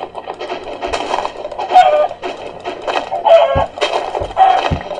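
Chickens cluck in Minecraft, a series of short, close clucks and squawks repeating irregularly over faint background game sounds.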